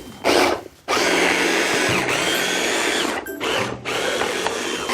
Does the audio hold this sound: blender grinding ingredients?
yes